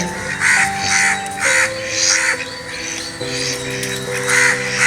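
Crows caw repeatedly in steady bursts outdoors, loud and close, with a faint tonal hum running beneath the calls.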